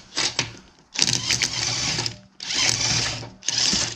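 A new DeWalt impact driver used while fitting tines to a muck grab, buzzing close up in four loud whirring bursts separated by brief pauses.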